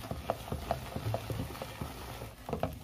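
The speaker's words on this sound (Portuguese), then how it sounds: "Continue mexendo que ele vai dar certo." Coxinha dough is worked with a spoon in a pan, giving soft irregular scraping and thick slapping stirs in an uneven rhythm, fairly quiet and close, with no talking.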